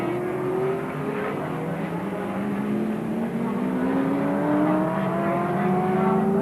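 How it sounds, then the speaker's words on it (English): A high-pitched Wankel rotary race car engine screams steadily during a 1983 Australian Touring Car Championship race at Symmons Plains, its pitch rising as it accelerates, loud and continuous with no talking. "Wankel rotary spinning and churning away and making more noise than any other car on the track"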